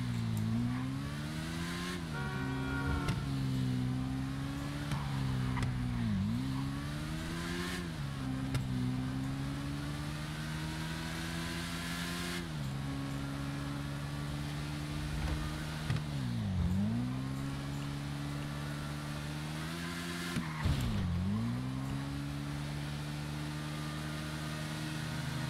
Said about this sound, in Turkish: Sanırım bu motorun biraz hız konusunda sıkıntısı var.